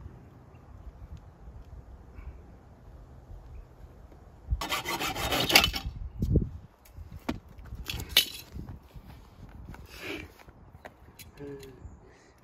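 Wood being sanded by hand for a DIY skatepark build, with rough rasping strokes in short bursts starting partway through, close by and moderately loud over a quiet background.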